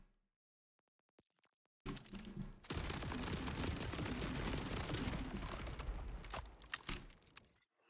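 Sustained rapid gunfire from a video game weapon, a dense continuous burst lasting several seconds after a brief quiet start, loud and close, then cutting off abruptly.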